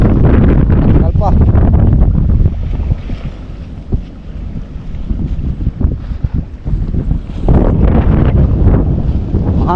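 Heavy wind buffets the microphone in loud rumbling gusts on a fishing trip at sea, easing in the middle before roaring back, with faint voices and open water around.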